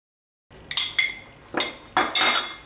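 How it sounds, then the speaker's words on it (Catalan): Cooked sushi rice is mixed with vinegar in a serving dish, heard as a few close clinks and scrapes of a utensil against the dish in short bursts, starting after a brief silence. "Tenim l'arròs en una font i el barregem amb el vinagre"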